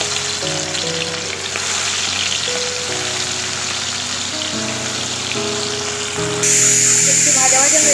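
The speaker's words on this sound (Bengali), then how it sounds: "এবার আমরা কড়া গরম করে এর মধ্যে তেল দিয়ে দিয়েছি চিংড়ি মাছগুলো ভাজার জন্য।" Shrimp sizzle and crackle steadily in hot oil in a wok, a dense close frying hiss that runs throughout and swells louder near the end, with a voice talking over it.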